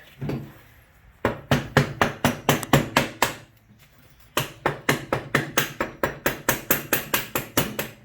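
Sharp, close hammer blows drive an axle into the rear wheel of a Suzuki SV1000 motorcycle, two bursts of rapid, evenly spaced strikes separated by a short pause.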